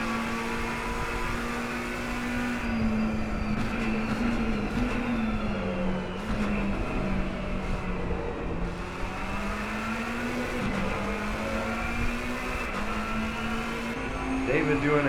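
McLaren race car in a racing video game at the Hungaroring at night, the engine droning and shifting pitch steadily as it comes down the front stretch, with a commentator talking over it.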